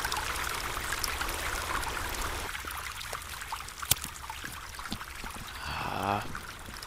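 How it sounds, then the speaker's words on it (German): Steady rushing, splashing waterfall in the video game The Forest fills the scene, a continuous broadband wash with a few sharp clicks and a brief tonal chirp near the end. "Hört sich gut an, das mit dem Wasserfall hier."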